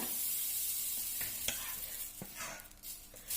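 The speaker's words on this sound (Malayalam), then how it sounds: "അടുത്ത ദോശ ഉണ്ടാക്കാൻ വേണ്ടിയിട്ട് ഞാൻ മാവ് പാനിലേക്ക് ഒഴിച്ചു കൊടുക്കാണ്" Egg dosa batter poured into a hot pan sizzles steadily, with soft scraping and spreading touches breaking through the frying hiss at close range.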